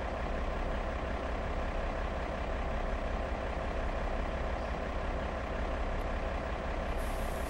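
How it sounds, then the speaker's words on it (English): A heavy diesel engine of a Marcopolo Scania G7 tour bus in the game OMSI 2 idles with a loud, steady rumble, close and continuous, with no voices over it. "Turn on your engine, and it comes loud."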